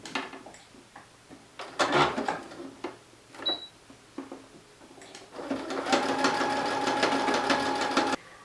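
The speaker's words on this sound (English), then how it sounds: "on my regular machine, I'm going to stitch in this crease line that is closest to the raw edge of the neckline" A home sewing machine stitches bias tape along a T-shirt neckline, first in a few short whirring bursts, then in one longer continuous run of close, loud mechanical stitching.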